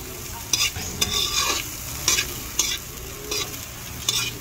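Carrots sautéing in a pan with bell pepper and chili, a steady sizzle broken by several sharp scraping stirs of a utensil at irregular intervals, close and fairly loud, with no talking.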